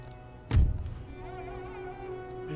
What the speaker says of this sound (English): Guns are still dropping artillery in.